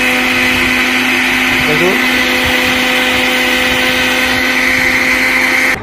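A kitchen blender runs continuously at full power, mixing mango juice with sugar, a loud steady motor whine and churning hum close by, with a short spoken word over it before cutting off at the end.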